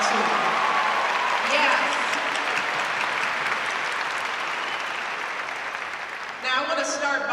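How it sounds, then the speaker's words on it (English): Audience applause fills a senior recognition assembly in Topeka, a steady, dense roar of clapping that holds for several seconds before a voice begins speaking over it at the end. "let's just take a moment to give a round of applause to those folks as well"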